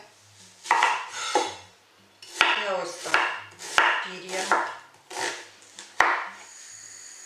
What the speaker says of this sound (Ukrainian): Цибулю нарізаю довільними шматочками